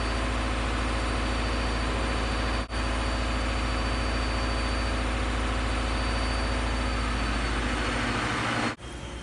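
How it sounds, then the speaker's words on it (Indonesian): A steady, loud mechanical rumble drones on continuously, like a washing machine running, with two brief dropouts partway through. "Itu suaranya mesin cuci"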